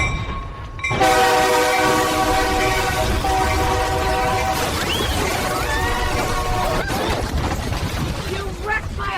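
An Amtrak Surfliner train blows a long, loud, steady horn blast close by, its layered chord holding for several seconds over rumbling rail noise.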